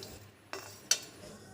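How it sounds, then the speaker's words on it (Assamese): Spices frying in a hot kadai for a sweet ripe-mango pickle, with two sharp metallic clinks of a spoon against the pan over a faint, quiet sizzle. "মছলাখিনি অলপ সময় ভাজি ল'ম"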